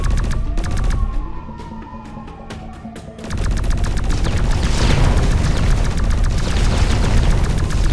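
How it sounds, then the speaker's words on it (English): Alien attackers open fire on the player's base in X-Morph: Defense, a loud barrage of gunfire and booming blasts; a quieter stretch with faint rattling gives way to sustained heavy, continuous explosions and shots close by. "The aliens are shooting at us!"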